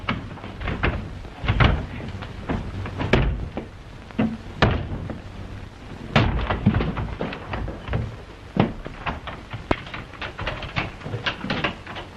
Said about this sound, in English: Open that door at once